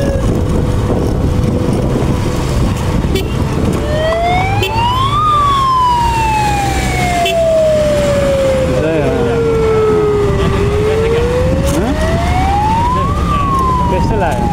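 An ambulance siren on a road in Nepal wails in long rising and falling sweeps, loud and close, passing over steady traffic and vehicle noise.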